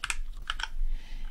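Several quick keystrokes on a 60% compact computer keyboard, clustered in two short bursts with a pause between, close and fairly crisp over a low steady hum.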